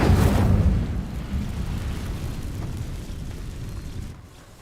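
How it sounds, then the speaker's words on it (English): The Incendio fire spell in Hogwarts Legacy catches dry vines with a loud whooshing burst, then settles into a sustained crackling, roaring burn that fades away toward the end. "These dry vines are one spark away from becoming kindling. Incendio!"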